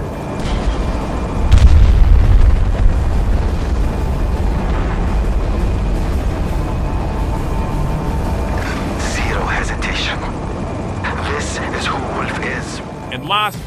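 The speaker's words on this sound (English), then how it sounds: "here comes the explosion from different angles and distances" A Tomahawk cruise missile detonating in Battlefield 2042, a deep booming blast near the start that rolls into a long sustained rumble, with faint scattered in-game sounds and brief voices toward the end.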